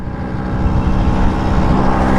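A loud, close, steady drone from the running engine of a 1976 vintage Vespa two-stroke scooter, swelling slightly as it continues without a break, with no talk over it.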